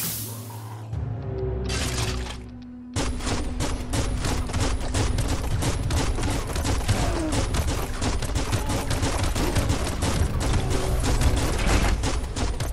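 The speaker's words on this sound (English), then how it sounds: "Bullets everywhere." Biomutant game gunfire starts after a quieter opening and then runs as a long stream of rapid shots, a dense, fast, even rattle of automatic fire that is loud and close.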